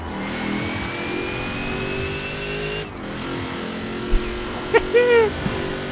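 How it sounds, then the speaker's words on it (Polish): A car engine revs with a rising, whistling whine like a turbo, sliding up in pitch, then chirping bursts near the end; synthetic engine tone from the racing game Forza Horizon 4. "On też brzmi jak czajnik, ten samochód, zwłaszcza na napiątce."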